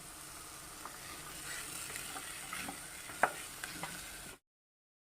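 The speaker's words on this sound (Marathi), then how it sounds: "एक 5 मिनिट मसाले आणि छोले छान परतून घ्यायचे।" Chickpeas and spices sauté in a pan for chole masala, giving a soft, steady sizzle with occasional scraping stirs. It is faint and close, with no voices, and cuts out near the end.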